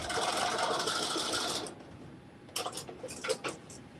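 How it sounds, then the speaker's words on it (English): A sewing machine runs a steady, fast, close back stitch on a dress for about a second and a half, then stops, leaving a few small ticks and clicks. "I'm doing a back stitch."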